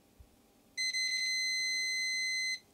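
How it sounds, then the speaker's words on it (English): A continuity tester sounds one steady electronic beep of about two seconds, close and clear, while probes bridge the positive centre contact and red wire of an e-bike light's wiring. "Now that beeping confirms to us that there's continuity between the centre there, which is the positive, and that red wire."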